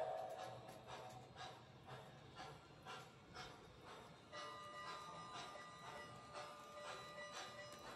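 An MTH Blue Comet ready-to-run toy train set plays its station arrival sequence, a soft recorded rail soundscape of rhythmic clacking wheels and rolling hum with tonal horn-like notes, faint and steady throughout.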